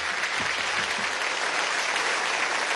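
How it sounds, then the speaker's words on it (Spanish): An audience claps for the ambassadors at the opening ceremony of a world poetry festival, a dense, even, sustained applause holding at full strength throughout with no talk over it. "Un aplauso para los embajadores"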